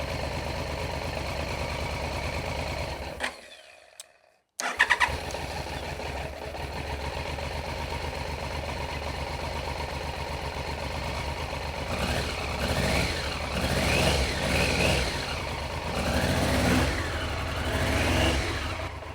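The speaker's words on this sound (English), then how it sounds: "Sounds like a little bit of a misfire, but that's probably a fuel issue because we don't have a tank or much fuel." Old Triumph motorcycle engine running without a fuel tank, idling roughly with a slight uneven misfire, a brief dropout near the start before it catches again, then a steady close mechanical chatter with light revving toward the end; no talking.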